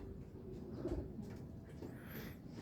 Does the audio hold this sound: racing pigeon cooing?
yes